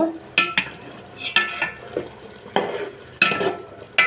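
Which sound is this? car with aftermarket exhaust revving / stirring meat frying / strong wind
stirring meat frying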